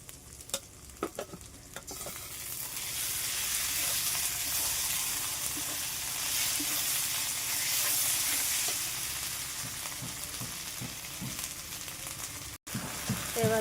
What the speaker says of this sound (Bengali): রসুনটা আমার ভাজা হয়ে গেছে, এবারে আদা, জিরে, মরিচ একসাথে দিয়ে দেবো